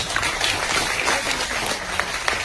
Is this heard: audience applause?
yes